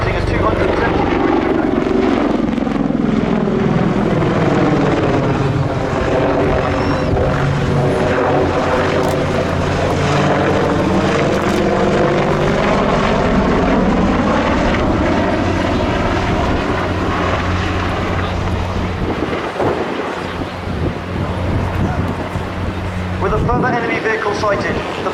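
An Apache attack helicopter flies air show display manoeuvres at Cosford Air Show, its loud rotor thrum and engine whine sweeping steadily in pitch as it passes, under a commentator's continuous narration over the PA.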